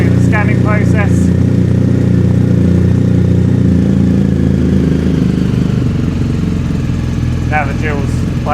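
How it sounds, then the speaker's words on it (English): A BMW GS motorcycle engine runs steadily at idle, a loud continuous mechanical hum and clatter throughout, with brief chirpy sounds near the start and end. "So it's a little bit loud, but we turn the bike on."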